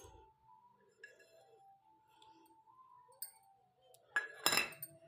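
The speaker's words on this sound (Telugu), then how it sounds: "ఇప్పుడు దీంట్లో అవిసె గింజలు వేసుకుందాం" Flax seeds being dropped into a glass of water: faint light clinks and taps against the glass, then a brief cluster of louder clinking near the end, in a quiet setting.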